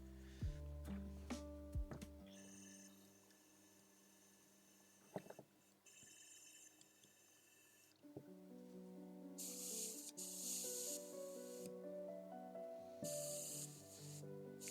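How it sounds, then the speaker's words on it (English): An airbrush flushed with isopropyl alcohol gives faint hissing spray bursts over a low mains hum, with clicks and intermittent louder spurts later on, and no speech. "flashing IPA through her airbrush"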